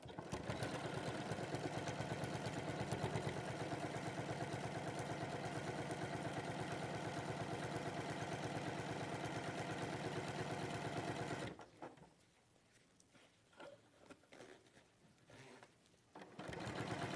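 A sewing machine stitches fabric in a fast, steady, close whirring run that stops abruptly after about eleven seconds, leaving quieter scattered handling noises.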